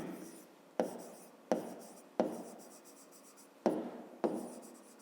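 Handwritten figures for a fifth-grade maths exercise scratched onto paper in six quick, close strokes, each a sharp scrape that trails off, with quiet gaps between them.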